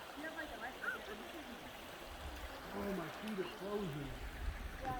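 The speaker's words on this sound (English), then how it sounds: "Nice little creek there." A small creek near a campsite in the Ozark Mountains of Arkansas gurgles and trickles over rocks, a close, bubbly flow with soft burbling notes throughout.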